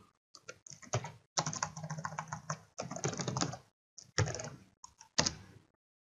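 Computer keyboard typing in Kali Linux, several bursts of quick key presses with short pauses between, close and clear, with no voices.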